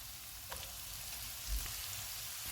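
Onion, green chillies and capsicum fry over low-to-medium heat in a pan, giving a steady soft sizzle with a few faint stirring clicks, close and fairly quiet with no talking.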